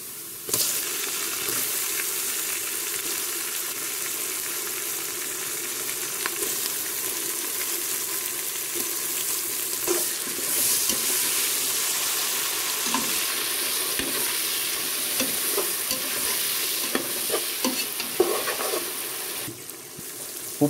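Tomatoes frying in a pan for seeraga samba kuska, a continuous broad sizzle with occasional scrapes and knocks of stirring throughout, no one speaking.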